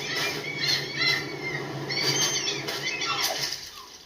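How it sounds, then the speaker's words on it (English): Seagulls squawk repeatedly in the video game Stranded Deep, shrill calls rising and falling at moderate loudness over a steady ocean-like wash of background ambience. "Oh, these seagulls."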